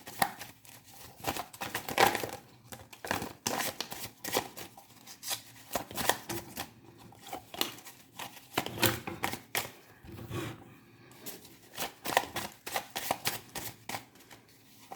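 Tarot cards are shuffled and handled near the microphone in uneven bursts of quick, crisp flicking and riffling, with short pauses between rounds.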